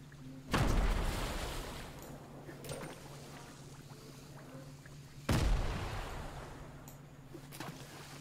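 Two grenade blasts go off in a video game about five seconds apart, each a sudden loud boom fading into a rumbling splash-like tail over quiet water ambience.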